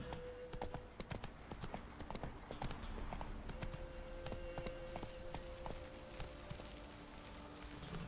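Hooves clip-clop in a quick, steady rhythm as a horse without a saddle is ridden in The Witcher 3 on PS4, crisp repeated hoofbeats over quiet game ambience, with a faint tonal hum in the background.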